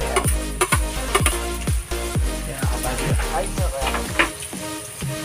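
Garlic, ginger and onion sauté in a pan with a steady, close sizzle, broken by repeated sharp stirring scrapes and clatters, with no voices heard.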